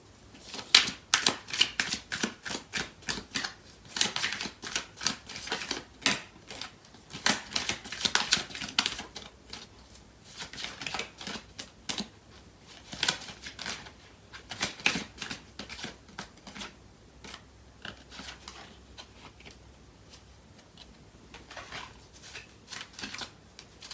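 Tarot cards being shuffled by hand, with crisp riffling and flicking bursts that come in uneven clusters, close and fairly quiet, with no one speaking.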